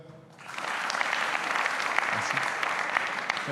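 Audience applause at a media cooperative launch event in France, breaking out after a brief pause and holding steady as a dense, even wash of many hands clapping.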